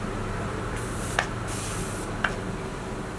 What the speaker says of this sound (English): I'll be finishing off with a setting spray